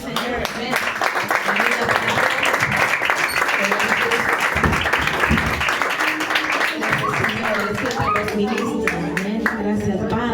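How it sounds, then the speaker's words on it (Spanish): A church congregation at a communion service applauds together, dense clapping close and loud throughout, with voices and a child's speech mixed into the noise. "¿Pueden dar un aplauso al Señor?"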